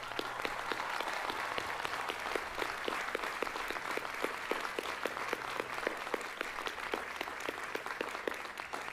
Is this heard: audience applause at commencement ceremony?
yes